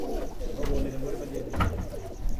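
Low, throaty pigeon cooing murmurs through a steady background rumble, with a brief louder flutter of noise partway through.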